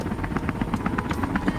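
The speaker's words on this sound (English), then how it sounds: "There's our helicopter." A helicopter arrives during the escape in the video game Dyscourse, a steady rotor chop pulsing evenly throughout at moderate level, with no voices.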